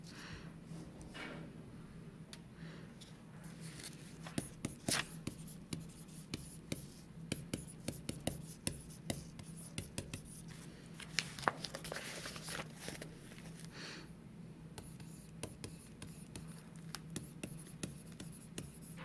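Pen writing by hand on paper, close and quiet, with steady scratchy strokes and small taps across the whole stretch over a low background hum, a soft voice now and then.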